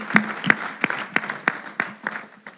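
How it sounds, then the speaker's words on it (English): A conference audience at an agribusiness event gives a panelist a thin round of applause, a few distinct, fairly close claps in an uneven rhythm rather than a full crowd roar. "please give a round of applause to our second panelist, Mr. Michael Ogundare"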